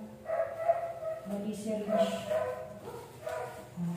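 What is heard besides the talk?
old dog Coco whimpering, crying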